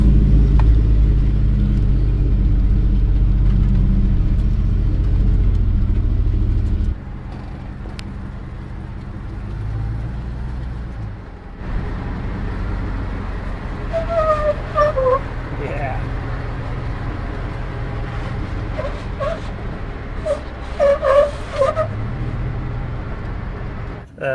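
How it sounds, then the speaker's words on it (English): An off-road vehicle descends a trail at Moab in 4-low first gear, with a deep engine rumble loud at first that then drops to a quieter drone with bumps and faint voices. "Going down. 4-low first gear and easy on that brake pedal."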